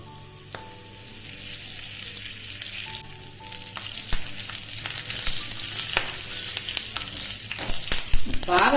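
Curry leaves, turmeric and asafoetida hit hot oil in a tempering for tomato rasam, setting off a sizzle that grows into loud, close spattering with a few sharp pops toward the end, over faint background music.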